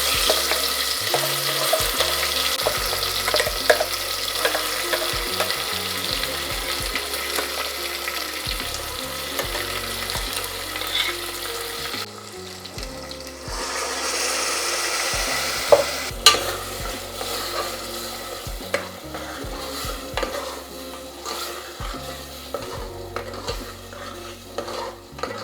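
Masala fries in a pan with a constant sizzle, while steady scraping and clinking stir strokes run close and fairly loud throughout. A brief hissing surge comes midway.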